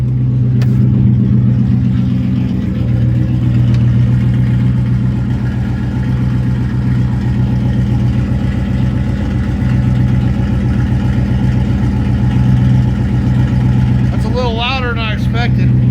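A V8 engine fitted with a fart cannon exhaust idles with a deep, steady, burbling drone. It stays loud and close for the whole stretch, with only slight swells in revs.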